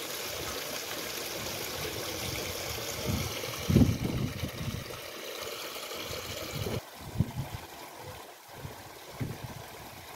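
Crystal-clear water flowing in a small stream at Chitradurga fort, a steady close rushing and trickling with a few louder splashes, no voices.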